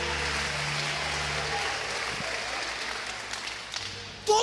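A church congregation breaks into applause, a steady, rustling wash of clapping that holds through the whole stretch and fades slightly near the end, with a brief louder burst at the close.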